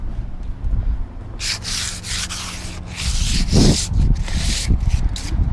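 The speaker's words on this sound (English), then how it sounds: "we're going to sand, just do a light sand to the top and the sides" Close, steady scratchy rubbing as sandpaper is worked lightly over the top and sides of a pressure-washed wooden deck, coming in repeated strokes that run almost continuously.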